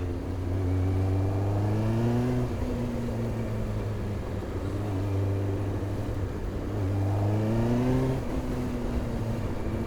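A Kawasaki ZX-9R sport motorcycle engine, running on expired vegetable oil, drones and rises in pitch twice, revving up then settling, steady and fairly close with no talking, on a road with traffic.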